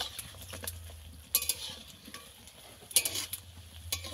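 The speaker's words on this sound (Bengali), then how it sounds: "একটু টাইম দিয়ে ভেজে নিতে হবে" Nimki dough frying in hot oil, a soft steady sizzle broken by occasional sharp clinks and scrapes of a utensil against the pan, fairly quiet and with no talk.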